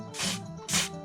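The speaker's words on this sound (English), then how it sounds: "you spray on the spring here all the way" Two short aerosol bursts of lubricant sprayed onto a garage door spring, each a close, bright hiss lasting about a quarter second with a brief gap between.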